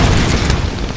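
A gunshot blast from the Tomb Raider video game, a loud booming burst that fills the moment and rumbles briefly before fading slightly, heard on its own without talk.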